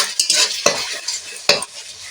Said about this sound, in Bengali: এবার এই মশলাটাকে ভালো করে আমি কষে নেব